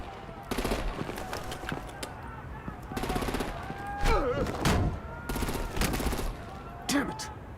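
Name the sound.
gunfire and artillery in the video game Batman: The Enemy Within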